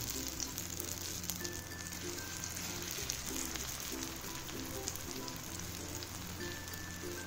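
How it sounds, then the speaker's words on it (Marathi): Beetroot cutlets pan-frying on a low flame give off a soft, even sizzle like light rain that continues unbroken at a modest level, with no voices. "आम्ही मंद गॅसवर छान भाजून घेतल्यात"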